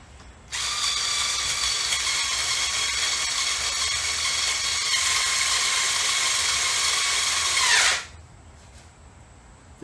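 A small Harbor Freight Drill Master power drill whirs steadily for about seven seconds, loud and close, then cuts off abruptly.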